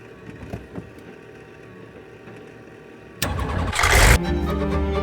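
A Kitfox homebuilt airplane engine cranks and catches around the three-second mark, then roars up loudly and settles into a steady, close, strong run. Before it starts there are only faint clicks and background hum.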